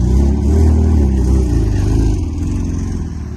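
A Porsche 911 Turbo engine running close by, a loud low rumble with a rev that rises and then settles back to a steady throbbing idle.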